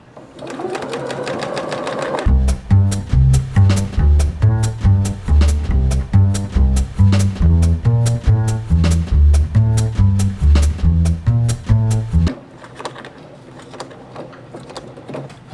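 A Janome sewing machine stitches over a thick doubled seam using metallic thread, a rapid steady chatter of needle strokes running for about ten seconds, loud and close, between quieter handling noises.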